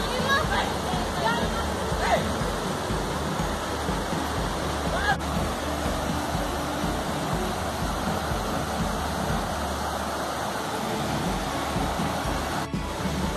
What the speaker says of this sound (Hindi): वाटरफॉल है यहाँ पे, यही है वो वाटरफॉल।